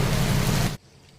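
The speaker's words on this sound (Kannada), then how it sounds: "ಟೆಂಪಲ್ಗೆ ಹೋಗೋಣ ಅಂತ ಬಂದರೆ ಮಳೆ ಬರ್ತಿದೆ." Steady rain pours down outdoors near a temple, a dense hiss that runs loud for most of a second, then cuts off abruptly to a faint background.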